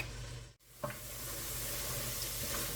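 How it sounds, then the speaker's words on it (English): Onions sizzling in a pan for a loaded potato soup, a loud, close, steady frying hiss that cuts out briefly, then resumes with a light stirring knock. "These onions have been cooking for a few minutes."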